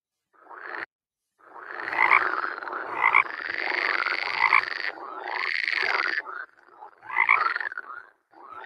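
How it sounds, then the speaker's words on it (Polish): Frog croaking in a school coding birthday quiz for young pupils, a series of loud, close, rhythmic croaks in repeated bursts with short gaps, alone without talk. "Żaba"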